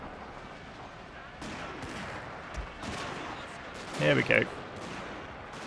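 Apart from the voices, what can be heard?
suppression gunfire in video game Shogun 2: Fall of the Samurai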